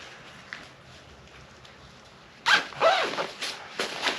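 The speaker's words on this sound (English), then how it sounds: "the liners all zip at the top, and they all zip at the bottom" Zippers on heated motorcycle gear liners are pulled in several quick, close, loud strokes after a quiet stretch, with a brief rustle of fabric between them.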